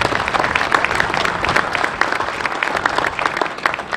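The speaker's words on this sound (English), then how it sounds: "So before we can say anything else, another round of applause for Frank Polivka." Loud, lively applause from a crowd at a transit center ribbon cutting, many hands clapping close by with a busy, crackling texture and no letup.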